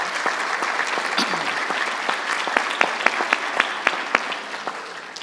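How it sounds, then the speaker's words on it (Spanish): A large audience claps steadily to welcome a speaker at an education ministry panel on environmental education, a dense, continuous applause with a few sharper, louder claps standing out near the end. "les pido por favor que le demos la bienvenida con un fuerte aplauso"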